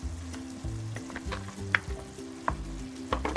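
Vegetables for a coconut-milk vegetable curry sizzle steadily in a frying pan as mushrooms go in, a close continuous fry with a few sharp clinks and stirring knocks.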